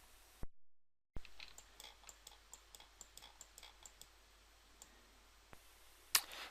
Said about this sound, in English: I'll do the same with the other one, by quickly clicking and dragging